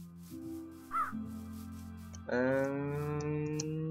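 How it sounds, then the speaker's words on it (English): A crow caws in the Twilight Forest area of a modded Minecraft world, one short call near the one-second mark over a steady game music or ambient drone that swells louder partway through. "You've got birds, which if you kill you'll just get feathers sometimes."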